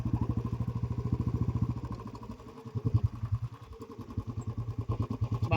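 A nearby motorcycle engine chugs in a fast, steady rhythm through congested city traffic in Gandhinagar, dipping briefly midway before pulsing loudly again, with no talk over it.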